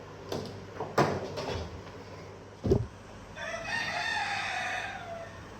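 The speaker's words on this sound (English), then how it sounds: "Sorry, rooster alert." A few knocks and thuds, then a rooster crows loudly from nearby, its call stretching out for a couple of seconds.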